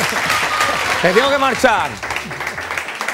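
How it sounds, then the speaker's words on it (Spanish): Studio audience applause on a Spanish television variety show, a steady wash of clapping running throughout as someone speaks over it. "Un aplauso para ellos, por favor."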